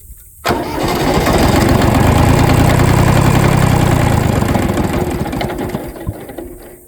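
A Kubota B6100 diesel tractor cranks and catches abruptly, running loud and rough for several seconds before sputtering down and dying out, with no voices.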